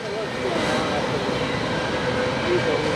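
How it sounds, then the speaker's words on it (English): A Norfolk Southern freight train, the V18 led by SD70M 2601 with a Conrail-heritage unit trailing, rolls past as a steady, loud broadband rumble with low rail noise throughout. "that was the first train of the night"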